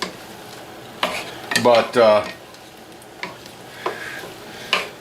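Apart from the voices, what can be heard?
stirring potatoes cooking in a pan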